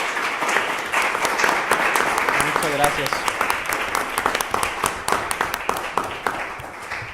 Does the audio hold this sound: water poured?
no